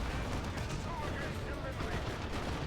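Plasma gun fire in a Dawn of War 2: Retribution 2v2 battle, a steady churn of rattling shots and blasts blended into constant combat noise, with a voice talking over it.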